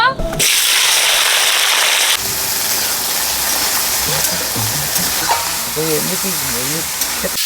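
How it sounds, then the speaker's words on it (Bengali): Tomatoes, whole slit chillies, ginger and garlic hitting hot oil for a spicy chicken dish: a loud, steady frying hiss that starts abruptly and continues throughout, with stirring clatter and a voice talking over it. "তেল গরম হয়ে গেছে এই সব সবজিগুলো ভেজে নেব"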